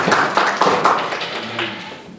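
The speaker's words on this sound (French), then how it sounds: "On peut applaudir la grâce de Dieu" A church congregation clapping during a Christmas service, a short burst of claps that starts strong and gradually thins and fades over about two seconds.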